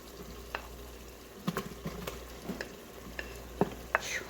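Onion added to hot fat in an Instant Pot while cooking sausage, a soft steady sizzle up close with scattered sharp clicks and taps of a utensil stirring against the pot, no talking.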